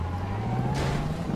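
Police car siren in GTA Online, a steady wailing tone that rises slowly, heard at moderate distance over game engine noise with no speech.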